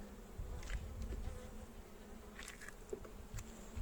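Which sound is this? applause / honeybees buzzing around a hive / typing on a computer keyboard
honeybees buzzing around a hive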